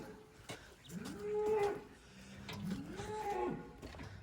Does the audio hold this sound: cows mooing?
yes